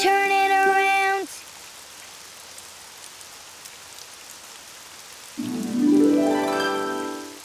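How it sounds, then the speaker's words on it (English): Cartoon rain falls as a soft, steady hiss, bracketed by brief bright musical tones at the start and a rising tonal swell near the end. "Oh, it's raining outside."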